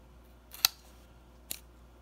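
Two sharp snips cut small pieces of balsa wood to equal length, spaced almost a second apart. They are close but fairly quiet against a soft background hiss.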